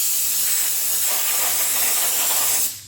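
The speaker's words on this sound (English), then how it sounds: "So I always use the brake clean to clean the surfaces." Steady pressurized hiss of brake cleaner sprayed onto a VW rear brake rotor, close and loud, running unbroken for nearly three seconds before cutting off.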